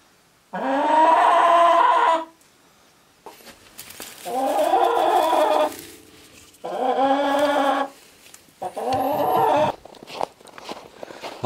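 Chickens squawk and cluck loudly inside a farmhouse coop holding four birds, in several long raucous bursts separated by short pauses, close to the listener with no talking.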